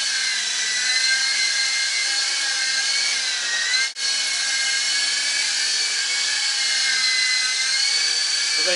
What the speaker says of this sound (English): That's my other helicopter, as you can see.